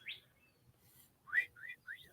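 Backyard birds sing in a few short whistled chirps and rising notes, fairly close and clear, separated by quiet gaps over a faint low rumble.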